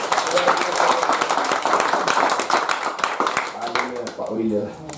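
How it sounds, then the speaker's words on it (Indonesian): An audience at a church family gathering claps together, dense hand claps for several seconds that fade out as a voice begins speaking near the end. "Tepuk tangan dulu."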